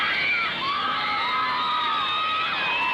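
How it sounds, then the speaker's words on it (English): A large crowd of young Beatles fans screams in a continuous, high-pitched roar, a dense wall of shrieking voices that holds steady at full strength throughout. "That calls for more screams."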